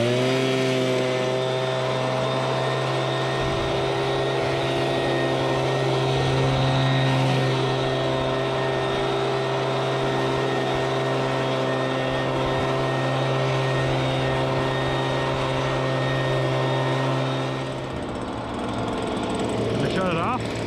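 A STIHL SH 86 C-E shredder vac and blower drones loud and steady at close range for a long stretch, then its pitch drops as the engine is cut, with someone talking over it.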